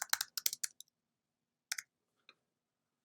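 A computer mouse clicks while working in charting software: a quick cluster of crisp, close clicks, then a lone pair after a pause and one faint tick near the end, with near silence between.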